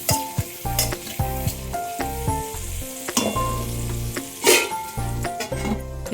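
Garlic and onion fry together in a pan, a loud close sizzle punctuated by repeated scraping and clinking of a spatula stirring, with a few brief harsher bursts.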